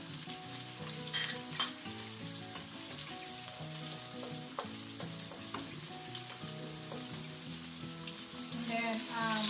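Onion sizzling in a pan for pork estofado, giving a steady crackling hiss with scattered stirring clicks, while soft music plays in the background.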